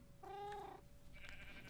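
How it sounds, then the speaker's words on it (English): A sheep bleats once in the Minecraft video game, a short, clear, wavering bleat, followed by a faint higher chirp over steady background hum. "we also have the sheep over here"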